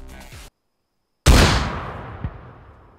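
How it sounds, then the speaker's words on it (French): Grenade explosion in the video game DayZ, a sudden loud boom after a brief silence, decaying into a long rumbling tail with a faint secondary thud, no voices over it. "Waouh, l'explosion."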